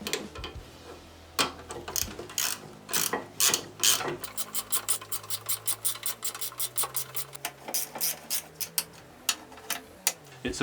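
A bar tightens a large caliper bolt on a VW/Audi front brake. It makes a close series of rasping ratchet clicks, irregular at first and then steadier and faster, with some scraping rubs.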